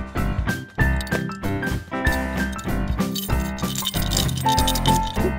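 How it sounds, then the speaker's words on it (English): Coins rattle inside a toy monkey bank in repeated loud shakes, set against busy background music. "You can put coins in here."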